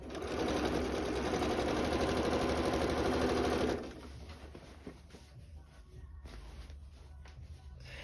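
A sewing machine stitches quilt binding in a loud, steady whirring run for nearly four seconds, then stops, leaving quieter handling rustles and faint background noise.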